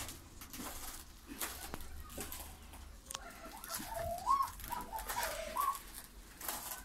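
Miro pigeons coo softly a couple of times, low and muffled, against a steady indoor background hum with faint rustling.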